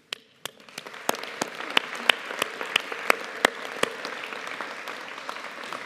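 A graduation audience at a business school ceremony applauds families and supporters. A few sharp, separate claps near the start quickly build into sustained, hall-filling applause with prominent individual hand claps.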